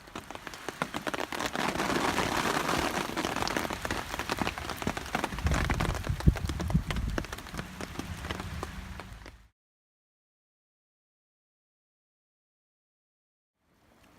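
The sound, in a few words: rain falling on hammock camp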